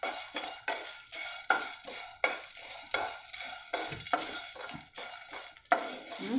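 Cardamom peels are stirred and roasted in a pan over low gas, making a rhythmic scraping of a utensil against the pan with soft sizzling, repeated about every half-second, close and steady.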